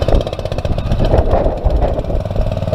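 Small engine on a fire pump running right after a pull start: a loud, close, rough chugging with rapid knocking pulses, steady for a few seconds.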